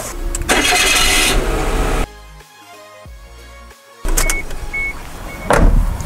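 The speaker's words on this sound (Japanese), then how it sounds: "ちょっとエンジンの方回してみますね。" A turbocharged Suzuki Wagon R engine is heard close up, loud at first, then quieter for a couple of seconds before it surges loud again as it starts and settles into an idle.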